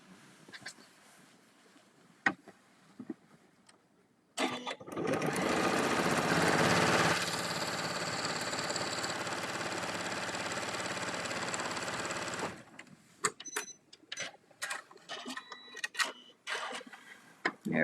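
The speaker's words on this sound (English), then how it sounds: "Now I'll take it to the sewing machine and I'm going to sew directly on top of the line." A sewing machine stitches fabric along a marked line, running in one continuous whirring burst of about eight seconds, close and steady, with quieter handling clicks before and after.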